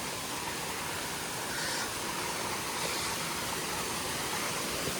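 Along the Agathiyar hills trail, a waterfall and river pour in a steady, dense rush of water, constant and moderately distant, with no voices over it.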